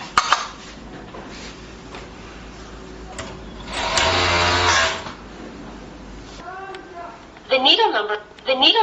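An automatic overlock sewing machine whirs in a short burst near the middle, then goes quiet, with faint mechanical clicks around it and a voice speaking toward the end.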